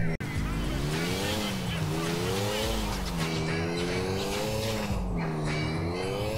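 A car in GTA 4 runs at full throttle, its engine droning loudly and wavering in pitch with tyre squeal beneath, while a voice talks over part of it.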